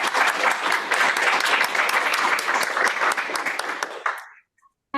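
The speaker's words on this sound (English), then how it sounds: "final thank you and round of applause to our speakers" A seminar audience applauds the speakers with sustained, dense clapping that holds steady for about four seconds and then stops abruptly into silence.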